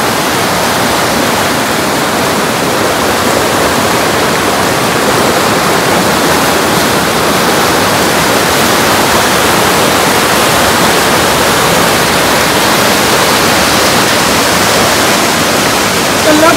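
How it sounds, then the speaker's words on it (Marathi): Fast floodwater rushes under a partly submerged bridge on a swollen village river at Kalamb during heavy rain, making a loud, steady, unbroken roar of water close by throughout. "किती खतरनाक वेग आहे पाण्याचा"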